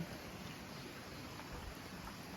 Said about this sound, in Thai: เราก็ต้องหาที่หลบฝนก่อน ไม่งั้นได้เปียกแน่